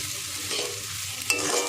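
Rice for sweet zarda pulao sizzles as it is stirred and fried in a pan, a close, steady hiss with soft scraping strokes and a sharper clink near the end.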